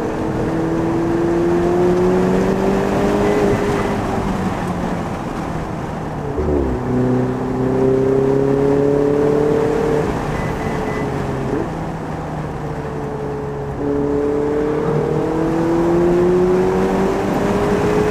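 A Ferrari 488 Spider engine revs and roars continuously up close, pitch climbing and dropping through several gear-like sweeps, with no talking.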